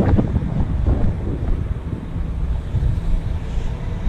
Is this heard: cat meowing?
no